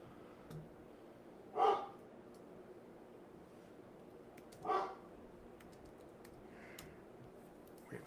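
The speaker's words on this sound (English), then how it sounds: "Wait for the dog to stop." A dog barks indoors, two separate short yelps a few seconds apart, moderately loud over a quiet room hum with faint clicks.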